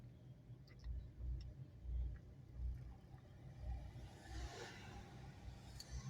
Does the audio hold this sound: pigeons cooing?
no